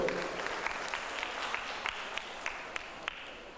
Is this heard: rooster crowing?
no